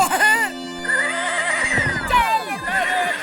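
A horse neighing in a long, loud, wavering whinny, with a second neigh starting near the end, close and prominent over a music-like background.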